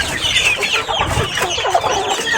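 Pet chickens, young birds kept in a pen, cluck and chatter close by in a continuous busy flurry of short calls.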